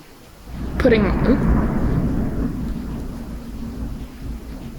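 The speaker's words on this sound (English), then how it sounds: "It's like really thundering right now." Heavy thunder from an outdoor storm breaks with a sudden crack, then rolls into a long, loud rumble that slowly fades, heard from indoors with a hint of rain.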